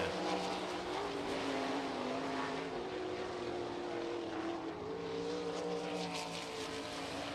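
360 sprint cars roar around the dirt oval at I-90 Speedway, a loud, continuous engine drone with rising and falling pitch as the pack passes, filling the whole stretch with no voices.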